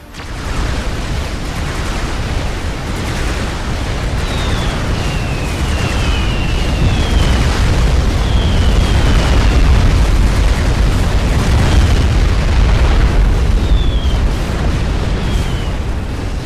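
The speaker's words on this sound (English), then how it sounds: "Hex-5 secondary bases are destroyed." Bases exploding in Supreme Commander: Forged Alliance, a dense and loud wall of rumbling blasts that goes on for many seconds, with faint whistling streaks passing over it and no voices.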